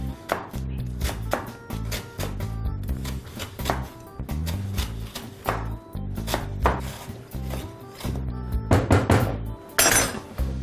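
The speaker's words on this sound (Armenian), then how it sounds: "Սա էլ շատ մանր չենք կտրատում։" A knife chops food on a cutting board with rapid, uneven strokes and sharp knocks, close and steady throughout, with occasional clinks and no talking.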